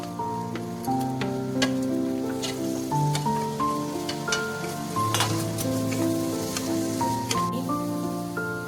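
Finely chopped onion and chili frying in four or five spoons of oil make a soft, continuous sizzle with light stirring, set under steady background music with no talking.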